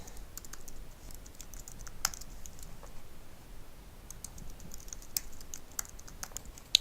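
Steady typing on a computer keyboard while customer details are entered to activate a prefunded Ultra Mobile SIM card, a continuous patter of close key clicks with a few sharper taps, no talking.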